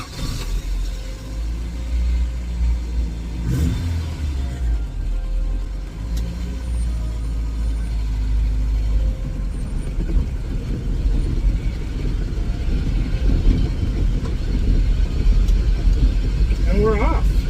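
An old, rat-infested Toyota that sat for 20 years runs rough and loud as it drives off, a low engine rumble that grows steadily heavier over road noise, with people talking over it.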